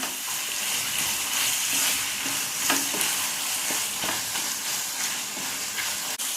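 Cheesy macaroni with sliced cheese is stirred in a hot pan, with soft scraping and wet stirring over a continuous close sizzle.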